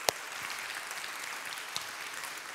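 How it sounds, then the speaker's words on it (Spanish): Steady applause from a church congregation, continuous and even, with a few sharper claps standing out near the start and toward the end. "Dale un fuerte aplauso a nuestro Dios."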